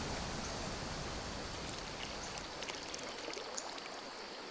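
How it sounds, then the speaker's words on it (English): Gently falling river water, a soft, steady broadband wash that runs throughout, fading slightly toward the end, with faint bright trickles and splashes on top. "The sound of gently falling water is mesmerizing"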